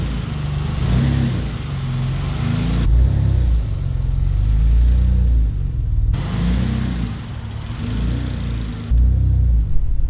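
A rebuilt forged twin-turbo Mitsubishi 3000GT with a 6G72 engine pulls out and accelerates, a loud low rumble rising and dropping in repeated surges as it moves off, with no voices.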